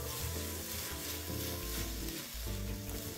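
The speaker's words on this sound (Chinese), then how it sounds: "再将所有食材一起炒匀。" Dumpling filling ingredients stir-fried together in a pan, loud continuous sizzling with scraping and tossing of a spatula throughout, no talking.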